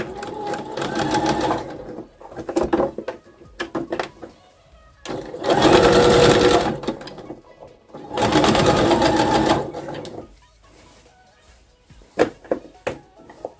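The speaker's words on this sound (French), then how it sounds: "Alors je vais passer à la couture et je suis tout simplement ma ligne" A sewing machine stitches a seam on a bomber jacket in separate loud bursts of a few seconds each, with pauses between them that hold fabric handling and small clicks.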